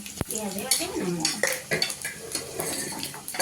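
Cumin and finely chopped garlic go into a hot pan and are stirred, with sharp metal clinks and scrapes of a spoon against the pan over a faint sizzle, close by.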